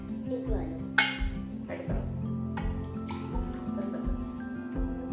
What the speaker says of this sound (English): So first we are going to add water inside the glass.